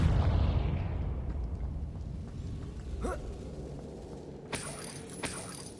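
A Confringo fire spell explodes in Hogwarts Legacy on PS5, giving a low rumbling blast that fades slowly, followed by a couple of sharper crackling bursts near the end, with no voices.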